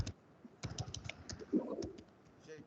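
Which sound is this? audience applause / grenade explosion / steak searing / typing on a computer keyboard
typing on a computer keyboard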